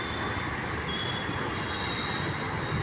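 A bus pulls into a bus stand in Tirupur, Tamil Nadu, with a continuous low rumble and broad roaring hum, plus faint high whining tones. The sound is steady and moderately loud, with no talking.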